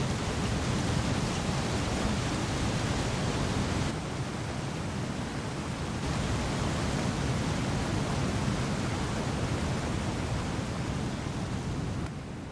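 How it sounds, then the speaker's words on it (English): A loud waterfall in The Isle video game roars as a dense, steady broadband rush, filling the clip without pause for about twelve seconds with no talk over it. "Here comes the loud waterfall."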